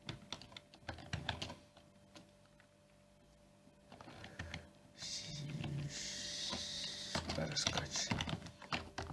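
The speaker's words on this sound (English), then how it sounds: "Fine, just have to type it out ourselves." Steady clatter of typing on a computer keyboard while coding HTML, CSS and JavaScript, close and moderately loud, with pauses and bursts of keystrokes and someone talking over parts of it.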